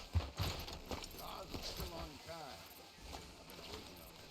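Horse hooves clip-clop at a walking pace in the Western video game Red Dead Redemption 2, fairly faint and mixed under ongoing character dialogue.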